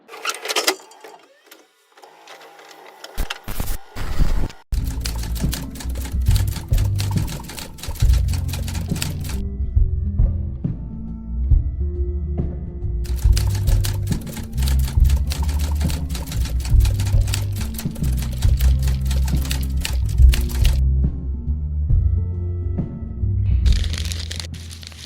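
Typewriter keys clatter in dense rapid bursts over low background music, with a brief gap before the steady typing resumes and runs on to the end.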